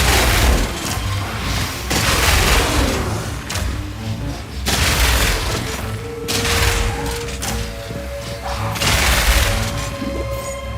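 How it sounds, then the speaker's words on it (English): Grenades explode repeatedly in the video game Path of Exile 2, producing dense bursts of booming blasts and crackling gunfire-like rattles in waves, loud and continuous, with occasional voice underneath. "when I put more grenades out, they die faster"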